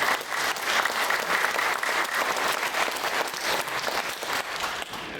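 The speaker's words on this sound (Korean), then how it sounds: "박수." Sustained, dense applause from an audience at a breakfast worship service, loud and steady throughout with no pauses.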